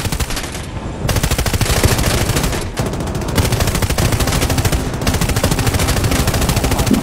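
Gunfire in Battlefield 2042, with loud, dense automatic fire rattling almost nonstop in close, rapid bursts separated by only brief gaps.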